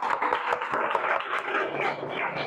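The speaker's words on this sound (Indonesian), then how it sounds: "Tepuk tangan untuk kelompok 2" A classroom group gives steady, fairly loud hand clapping for a student discussion group, continuous with no pauses.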